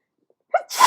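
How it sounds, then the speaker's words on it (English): A single close, loud human sneeze, a quick sharp intake of breath followed by a forceful burst of air, with no other sound around it. "I gotta sneeze now."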